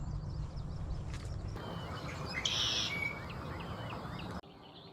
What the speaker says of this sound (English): You can hear frogs, a lot more birds and stuff in this calmer part of the lake.